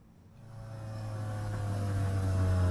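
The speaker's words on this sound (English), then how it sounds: "I pick up the sound of a well-tuned V8 engine approaching" A well-tuned V8 car from a video game approaches, its engine drone rising steadily in loudness from near silence as it draws closer.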